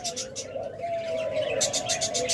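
A breeding pair of yellow Fischer's lovebirds makes quick, high chirps and twitters in short clusters close by, while a person talks at the same time.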